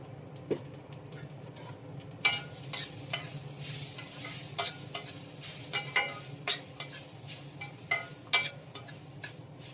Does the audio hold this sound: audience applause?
no